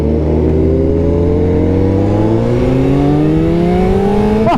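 Honda CBR 1000RR-R Fireblade SP sportbike riding out of a parking lot with a freshly tuned ECU, its engine droning loud and close as the pitch climbs steadily through the gears, with no voices.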